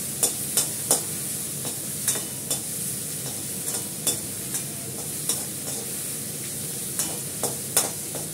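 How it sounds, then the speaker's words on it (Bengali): Onion fries in a pan with cumin tempering nearby, a steady low sizzle broken by sharp, regular clinks and scrapes of a spoon stirring roughly every half second, close and moderately loud with no talking. "পেঁয়াজটা একটু ভেজে নিই"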